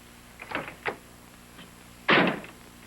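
A Ford car door fitted with the LifeGuard double grip latch from the 1950s, heard as a few light clicks and taps of the latch mechanism and then one solid thunk as the door shuts, close by.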